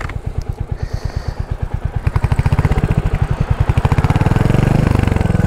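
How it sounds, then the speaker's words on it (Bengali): A Royal Enfield Hunter 350 single-cylinder motorcycle engine thumps steadily at close range, its even pulse quickening slightly and growing louder as it is revved a little. "বাইকের সাউন্ড একটু আমি আপনাদেরকে শোনাই"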